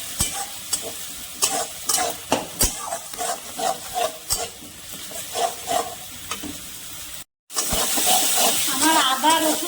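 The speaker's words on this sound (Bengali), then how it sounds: "আর রসুন বাটাটাও দিয়ে দিলাম। দিয়ে এটা একটু ভালো করে কষিয়ে নেব।" Garlic paste frying in a pan for a prawn curry, with repeated spoon scrapes and stirring knocks over a steady sizzle that grows louder and more intense after a brief pause.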